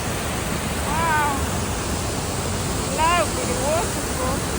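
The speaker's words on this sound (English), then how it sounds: "Lovely waterfall." Morton Waterfalls near Campbell River, British Columbia, roars as a loud, steady rush of falling water, with a few short whistled or bird-like notes drifting over it.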